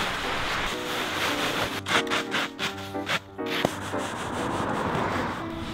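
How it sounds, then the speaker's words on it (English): Good old-fashioned raking of leaves on a lawn, a continuous loud rustling scrape with brief rhythmic strokes in the middle, close and alone without talk. "there's also good old-fashioned raking"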